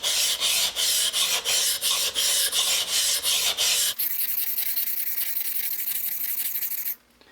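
A chisel's flat side rubbed back and forth on a whetstone, about a dozen quick rasping strokes up close, then a quieter steady scraping that stops abruptly.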